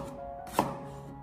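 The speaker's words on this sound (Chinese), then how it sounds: "清洗干净以后，将它直接的切成薄片" A knife slices a small piece of fresh ginger into thin slices on a board, one sharp, close chop standing out against a quiet kitchen background.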